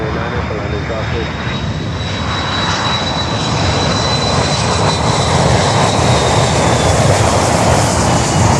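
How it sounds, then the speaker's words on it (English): An airliner landing at Miami airport roars steadily and loudly with jet engine noise rising toward the end, while people talk under the sound. "That's a long landing, guys."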